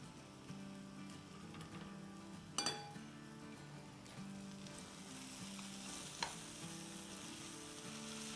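Masoor dal pulao sizzles in a pot while it is stirred, a soft, steady frying hiss with occasional spoon scrapes and two sharp metallic clinks, close but fairly quiet.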